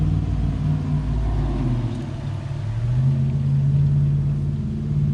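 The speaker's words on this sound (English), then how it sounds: "So that is filling the master cylinder." MityVac pressure bleeder filling and pressurizing a brake master cylinder through a valve, a steady low rumbling hum with a faint hiss that holds constant for several seconds, close and fairly loud.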